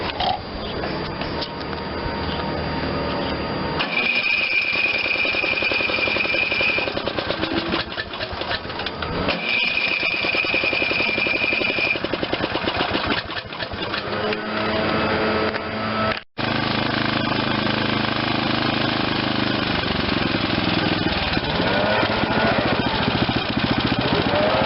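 A Briggs and Stratton 16.50 engine on an Ariens mower runs steadily at close range, a continuous rattling buzz with small changes in speed and one brief cut-out before it carries on.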